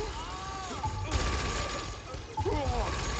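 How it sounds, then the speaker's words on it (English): Gunfire in Saints Row: The Third during a street firefight, with bursts of shots crackling amid busy game effects and music-like tones, a few punchy impacts standing out. "people are kind of shooting at me"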